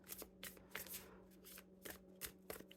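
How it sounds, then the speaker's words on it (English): Tarot cards being shuffled by hand in a series of quick riffling bursts with short pauses, close and fairly quiet over a steady low hum. "continue to shuffle them up a little bit"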